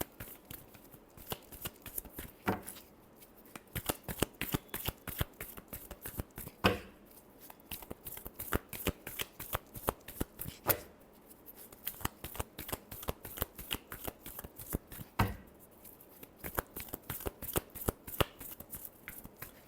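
Tarot cards shuffled by hand for a reading: a steady, close run of rapid papery riffles and slaps that keeps going for the whole stretch, with brief pauses between passes and no talk.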